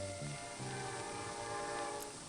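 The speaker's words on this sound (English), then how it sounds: "Those are Santa Fe locomotives." A Santa Fe locomotive sounds a steady, loud train horn with sustained tones over a continuous rumble of rail noise, heard alone with no speech.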